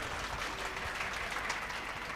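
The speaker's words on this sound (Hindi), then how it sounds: "एक बार ताली बजाकर बताइए।" Audience clapping at a live Urdu-Hindi poetry recital (mushaira), a dense steady wash of applause from a crowd, fairly soft and continuous throughout with no voices over it.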